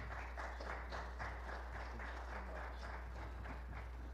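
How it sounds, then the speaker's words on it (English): An audience at a college business leadership event claps in a steady, dense round of applause, even and sustained over a constant low hum. "Let's have one more round of applause for Sherry Garner Brumbaugh"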